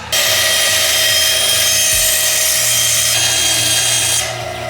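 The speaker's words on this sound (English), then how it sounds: "Okay, let's see how she rips." A Rikon 10-inch bandsaw fitted with a coarse blade rips through wood, a loud continuous high whine of the cut over a low motor hum, steady for about four seconds before easing off.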